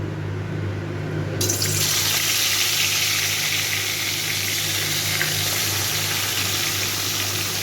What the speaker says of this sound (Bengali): তেলটা ভালো করে গরম হয়ে গেছে এবারে আমি মাছগুলো দিয়ে দেবো